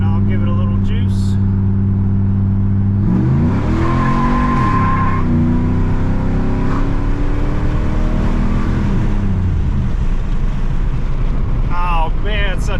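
A V8-swapped Chevrolet S10 pickup accelerating hard from about 30 mph, the engine roar rising and sweeping up in pitch under steady wind noise, with a brief voice near the end.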